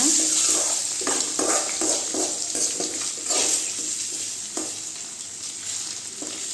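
An egg fry with pepper and salt sizzles in a pan while a spatula stirs and scrapes it in repeated strokes, a close, steady frying hiss with no talking.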